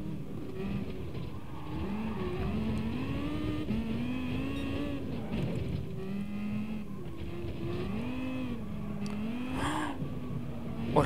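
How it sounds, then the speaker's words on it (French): A Vision Gran Turismo race car in Gran Turismo Sport holds a sustained engine whine that rises and dips repeatedly through gear changes and corners, moderately loud and with no one talking. "mais c'est très très violent comme bagnole là"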